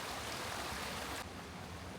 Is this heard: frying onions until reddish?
no